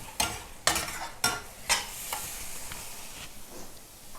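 Seasoned pork stir-fry with chili paste tossed in a hot pan, a spatula scraping in several sharp, evenly spaced strokes over a faint sizzle, the stirring trailing off into softer scrapes.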